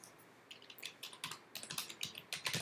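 Quick, light keystrokes on a computer keyboard as a terminal install command is typed, a rapid irregular patter of clicks growing slightly louder toward the end, close and quiet with no voice.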